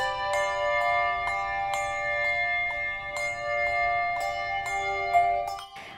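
Church bells rung in sequence by a band of bell ringers at rehearsal, each stroke sharply struck and ringing out with long overlapping tones, close and fairly loud, with no voices.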